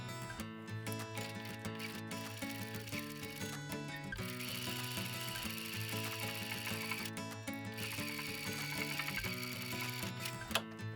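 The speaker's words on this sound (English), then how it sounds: "So we're going to take it over to our sewing machine, we're going to drop our foot down, and we're just going to sew right along that line." A sewing machine runs steadily, stitching a diagonal line across a pinned flying geese quilt block, its needle mechanism whirring in a continuous, close rhythm with no talking.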